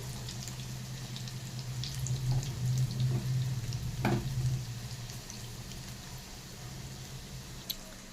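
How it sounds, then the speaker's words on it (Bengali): Pieces of dhoka lentil cake fry in oil in a kadai, giving a soft, continuous sizzle with faint bubbling and a few light clicks, fairly quiet and steady. "সাইডের কটা টুকরো ছিল, সে কটাকে ভেজে নিচ্ছি"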